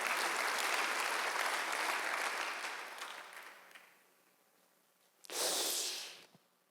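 Church congregation applause, a broad loud wash that fades out over a few seconds, then a brief second burst of clapping rises and dies away.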